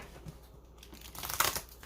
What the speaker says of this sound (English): I'm going to shuffle these and see how well they shuffle.